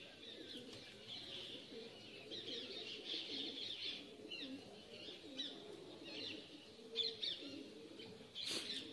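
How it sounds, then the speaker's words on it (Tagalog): Dense early-morning birdsong in India with overlapping chirps and calls, low cooing from pigeons underneath, steady and moderately loud throughout. "daming ibon"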